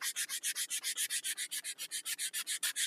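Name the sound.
sanding wood smooth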